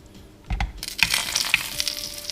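Western omelette chaffle batter hitting hot Dash Mini waffle makers: a few light clicks and clatters, then a bright, steady sizzle that swells and keeps crackling close by.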